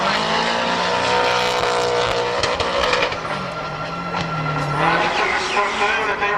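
Drift car at a D1-style drift nationals round, engine roaring loud and sustained with shifting revs and tyre scrub as it is turned in hard on track, with crowd and commentary noise mixed beneath.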